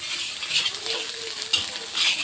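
Street-style chicken fried rice being stirred in a frying pan: a steady broadband sizzle with soft scraping strokes and a few brief clinks, fairly close, no talking.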